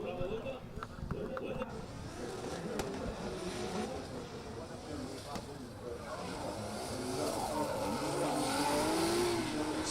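A drift car in qualifying at the Oman International Drift round 3 accelerates and slides, its engine rising in pitch with tire squeal building louder toward the end, under continuous excited commentary.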